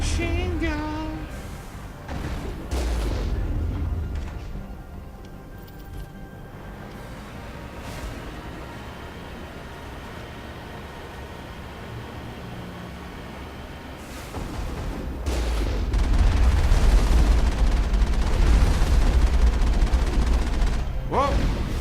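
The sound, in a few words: machine gun fire in the video game Mass Effect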